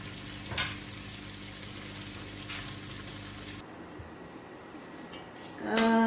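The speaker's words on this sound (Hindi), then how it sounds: "इसको तब तक मैंने फ्राई करना है ताकि थोड़ा सा इसका कलर चेंज हो जाए।" Onions sizzle steadily in a hot pan during a Lahori bong paya preparation, a soft continuous hiss that drops away halfway before a brief louder crackle near the end.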